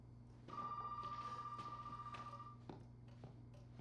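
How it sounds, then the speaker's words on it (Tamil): A telephone rings inside the horror video game Resident Evil 7: one sustained electronic ring lasting about two seconds over a low steady hum, followed by a few faint taps once it stops. "எங்கடா அடிக்குது ஃபோன்?"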